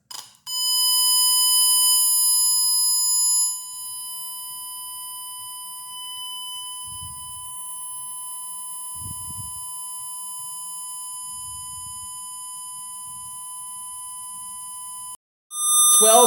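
A pure 1000 hertz test tone plays from a speaker, loud and steady for several seconds, then holds at a slightly lower level alongside faint low thumps before cutting off briefly.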